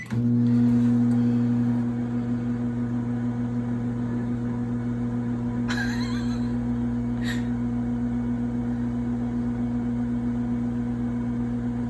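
A microwave oven runs steadily for about fifteen seconds while heating a Peep marshmallow, giving a constant mid-level hum with a strong even drone, plus a couple of brief faint clicks partway through and no speech.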